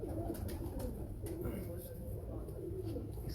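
Soft, low cooing from a female Teddy pigeon, a breed of pigeon, held fairly close against a steady background hum, with a voice talking over it.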